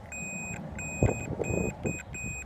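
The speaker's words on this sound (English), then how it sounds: "And if you heard the beep, that means that my wiring from the signal to the blade end is good." A tester on a tailgate light signal wire gives a run of repeated high electronic beeps in short, evenly spaced bursts, sitting over soft handling thumps and low background noise.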